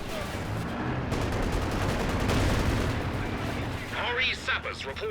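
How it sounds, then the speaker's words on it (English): An artillery barrage pounds British forces in Company of Heroes 2, a dense run of booming impacts and crackling gunfire that thins out near the end, where a voice talks over it. "That artillery's just coming in for the Brits."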